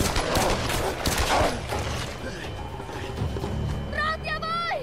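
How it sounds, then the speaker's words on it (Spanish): A quick burst of sharp gunshots cracks out early in the game Tomb Raider Definitive Edition, followed by scattered shots and clatter amid game noise and a faint voice. "Que he escuchado disparo."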